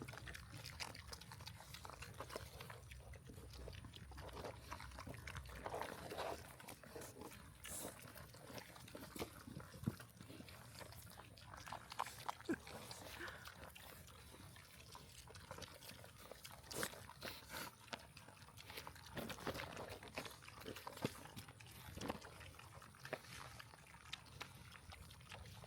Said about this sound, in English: That's the sound of happy pigs right there.